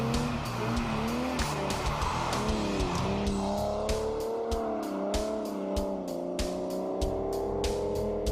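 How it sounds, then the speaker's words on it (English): An Aston Martin Vanquish driven hard on a wet race circuit, engine droning loudly with shifting pitch as it brakes and corners, tires squealing and hissing over the wet surface, heard from close by without talk. "The weight of the Vanquish is apparent when driving on the wet. When you brake or take a corner, you realize what a tanker this is."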